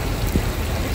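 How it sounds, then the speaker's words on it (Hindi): Heavy rain drums steadily on a Toyota Vitz during a road trip from Karachi toward Naran Kaghan, heard from inside the car as a dense, continuous wash with a low rumble throughout. "काफ़ी बारिश हो रही है।"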